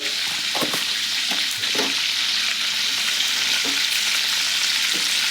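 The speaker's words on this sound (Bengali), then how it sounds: "এই যে গোটা কালো জিরে ফোড়ন দিলাম" Whole cumin and black cumin seeds tempering in hot oil for a prawn curry, a loud continuous close sizzle and crackle with a few soft stirring knocks throughout.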